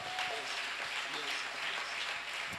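A church congregation claps and cheers together during a worship service, a dense continuous wash of applause with a preacher's voice over it.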